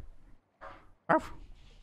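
A dog in the Fortnite video game barks in two short bursts, the second louder and sharper, close by with faint game background between them.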